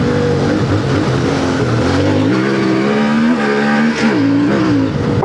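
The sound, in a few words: CFMOTO IBEX 450 motorcycle engine accelerating in second gear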